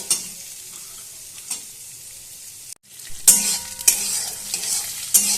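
Kalai lentils fry in a pan over a low flame, giving a soft steady sizzle with scraping stir strokes that grow louder and busier partway through, close up with no voices.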